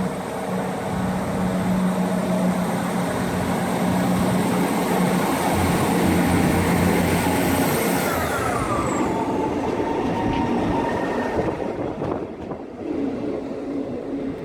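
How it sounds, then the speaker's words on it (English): A South Western Railway class 158 diesel train in new livery rumbles past at a station in Eastleigh, loud and steady, then fades as it pulls away with a falling whine near the end. "South Western Railways class 158 in its new livery."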